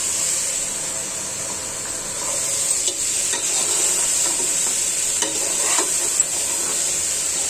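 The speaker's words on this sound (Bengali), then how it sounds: "কাঁচা কলা, আলু, মাংস কষিয়ে নিচ্ছি ভালো করে।" Green banana, potato and meat sautéing in a pan for a Bangladeshi-style mixed vegetable dish, giving a steady sizzling hiss with occasional soft stirring clicks, close and continuous.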